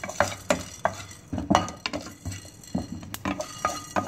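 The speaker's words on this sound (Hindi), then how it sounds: "जीरा काली मिर्च का हल्का सा रोस्ट कर रही हूँ" Cumin and black pepper dry-roast in a preheated pan, stirred with a metal spoon that scrapes and clinks against the pan in quick repeated strokes over a soft sizzle, close and alone.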